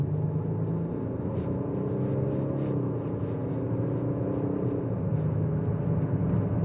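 Cheap used Range Rover cruising fast along a road, a steady low engine and road-noise drone heard from inside the cabin, smooth and continuous with faint tonal hum; no talking.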